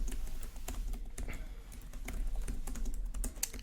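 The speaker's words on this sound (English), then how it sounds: "that's me typing" Someone types on a computer keyboard at close range, producing a quick, uneven run of sharp key clicks over a low steady hum.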